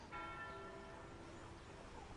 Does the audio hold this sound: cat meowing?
no